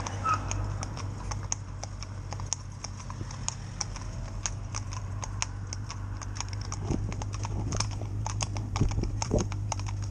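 Two horses driven in tandem, one leading the other, clip-clop steadily along a road in a continuous rhythmic patter of hooves, close and clear over a low engine-like hum, with no talking.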